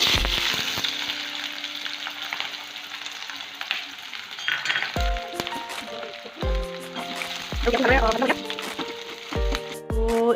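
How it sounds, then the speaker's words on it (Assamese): Onions dropped into hot oil rendered from pork in a wok sizzle and fry steadily, with repeated metallic clanks and scrapes from stirring up close. "ইয়াতে মই পিঁয়াজখিনি দি দিম এতিয়া"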